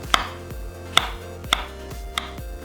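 Knife chopping through ten Vienna sausages into thin 0.3 cm slices on a board, four crisp evenly spaced cuts close up with quiet pauses between.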